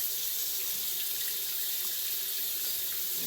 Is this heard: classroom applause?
no